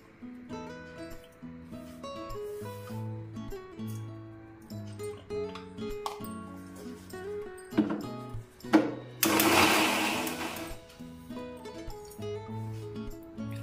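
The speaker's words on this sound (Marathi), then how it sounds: "मी थोडं थोडं मिश्रण हे मिक्सरच्या भांड्यामध्ये बारीक करून घेते" A mixer grinder grinds a sesame and jaggery mixture in its jar, a loud roaring burst lasting about a second and a half that stands out over steady background music.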